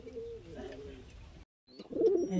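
Fancy and high-flying pigeons coo inside a loft, with soft throaty coos heard close by, a brief gap, then a louder burst of cooing.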